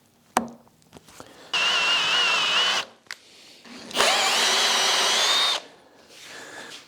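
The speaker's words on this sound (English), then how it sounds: "I'm actually going to have another go at drilling that" A power drill bores into wood for a workbench tool holder in two sustained high whining bursts, each a few seconds long, separated by brief clicks and handling noise in a quiet workshop.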